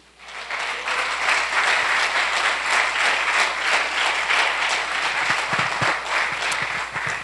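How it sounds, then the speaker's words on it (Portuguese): Church congregation applauding during a Santa Ceia communion service, a dense steady clapping that holds loud and continuous from start to finish. "Então vamos dar um outro aplauso para o Senhor Jesus."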